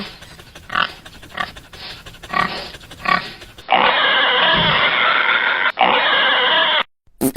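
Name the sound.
wild boar being caught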